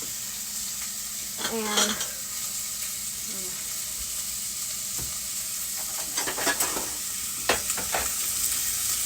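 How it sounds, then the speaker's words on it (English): Chopped onions sweating in hot oil in a pan, a steady soft sizzle running throughout with a few brief stirring clinks and scrapes, and a voice speaking a word or two briefly over it. "I have my oil that's nice and hot, and I'm going to sweat my onions."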